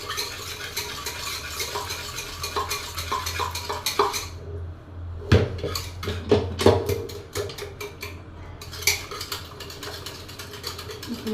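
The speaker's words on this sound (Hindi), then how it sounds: "चावलों को मैंने उबाल लिया था और अब मैं इसे चीनी डाल के फेंट रही हूँ बहुत अच्छे से।" Boiled rice and sugar for kheer being beaten in an electric mixer in a home kitchen, a steady whirring, grinding churn with rattling bursts and clinks partway through, fairly close and with no talking.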